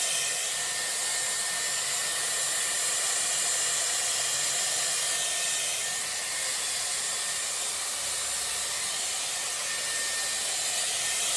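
A Dyson Airwrap hair styler with a round brush attachment blow-dries hair, giving a steady, loud airy hiss that holds constant throughout with only slight shifts in tone.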